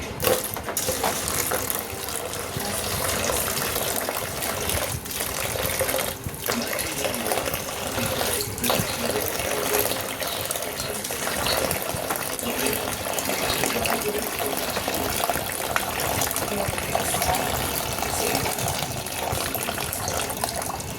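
Steady, continuous rush of running water, fairly loud and close, with no pause for the whole stretch.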